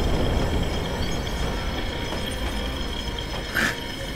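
Train running in the video game Watch Dogs, with a steady rumbling rail noise throughout and a brief metallic squeal or clank near the end, heard without any talk.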